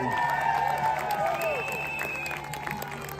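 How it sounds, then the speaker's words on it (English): A parade crowd at the St. Patrick's Day Parade in Queens applauds councilwoman Julie Wan, with steady clapping mixed with scattered cheers, whistles and voices throughout. "Let's give a big round of applause to Julie Wan"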